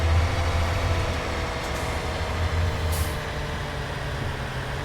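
Truck engine in a video game, a steady low rumbling drone with a gritty idle texture throughout, plus a brief hiss near the middle, with no voices over it.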